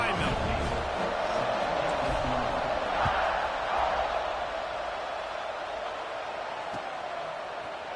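A football stadium crowd roars steadily before kickoff, a broad sustained wash of cheering with a commentator talking over it throughout.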